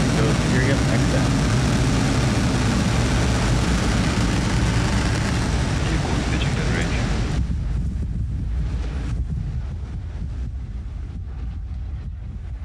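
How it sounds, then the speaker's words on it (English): A SpaceX Falcon 9 rocket lifts off carrying a SiriusXM satellite, its engines giving a dense, loud broadband roar that holds steady and then thins into a duller distant rumble. "ignition, and liftoff"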